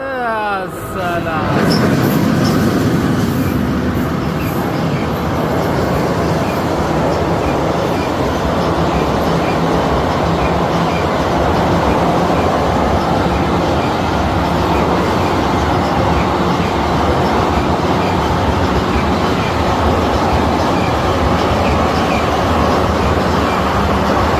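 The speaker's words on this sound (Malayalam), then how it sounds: "മീൻ പിടിക്കുന്ന അടുക്കൊരു ട്രെയിൻ പോയിട്ടുണ്ട്" A train rumbles past close by, near people fishing, after a brief start, a loud, steady roar with rattling wheels that fills the whole stretch.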